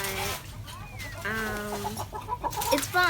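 Chickens at a school garden, clucking and calling in short bursts close by, with some background noise and faint voices mixed in.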